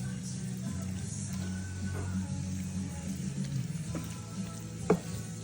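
Tomato paste fries and browns in a pan with a steady, soft sizzle, joined by occasional light stirring scrapes and a sharper clink near the end.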